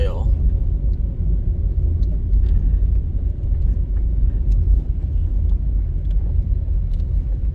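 A car driving through the Harbour View housing scheme in Kingston, Jamaica, heard from inside as a steady, loud low road rumble and engine drone, with faint higher sounds over it throughout.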